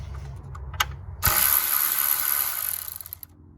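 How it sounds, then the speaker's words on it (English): A ratchet wrench turns a 10 mm socket on a V6 Jeep Grand Cherokee engine, with a quick rapid clicking burst after a couple of faint clicks, close and loud, then fading to quiet. "I know I'll drop it if I keep using the ratchet"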